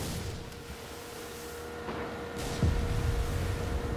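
Booming in-game fireworks explosions during the final battle for Esperanza in Far Cry 6 on PS5, a muffled thump near the two-second mark and a louder burst near 2.6 seconds over constant rumbling battle noise.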